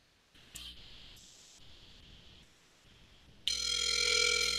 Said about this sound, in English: Okay, it's ringing.